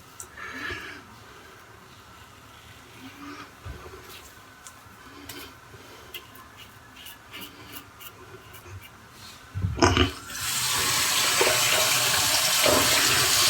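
Cold tap water runs into a sink during a shave, starting abruptly near the end as a loud, steady rushing that continues to the close, with no talking.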